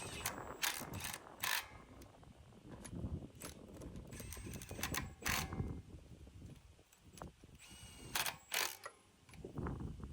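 A hand tool spins and ratchets wheel lug nuts down tight in a star pattern during a flat tire repair, giving irregular bursts of clicking and metallic rattles at close range with short pauses between nuts.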